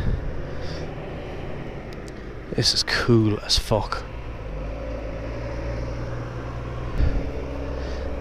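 A lorry pulling out of a stone crusher site, its low engine rumble steady and close throughout, with a brief burst of louder activity midway; someone speaks over it.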